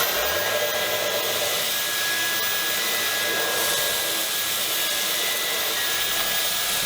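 Dyson V10 Absolute+ cordless vacuum runs steadily with its mini motorized brush tool spinning, giving a loud, continuous high whine and airy rush with a faint tonal hum, no voices.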